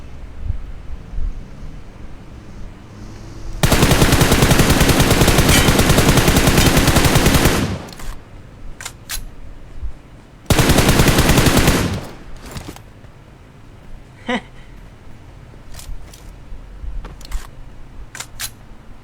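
Automatic gunfire from a shooting video game: one long sustained burst of rapid shots, then a shorter second burst, loud and close, with quieter faint game noises in between.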